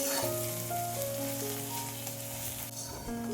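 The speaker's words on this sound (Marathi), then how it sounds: "आता हा कांदा छान सोनेरी रंग येईपर्यंत परतलेला आहे" Onion sautés in oil in a pan until golden for a quick tomato chutney, a steady close sizzle with faint tonal hum lines underneath, continuous and even, no one talking.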